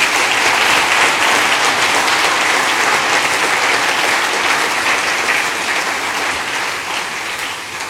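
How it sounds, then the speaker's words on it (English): Sustained, dense applause from an audience at a technology summit in Grand Bahama, steady and loud throughout before easing slightly near the end. "So a round of applause for that."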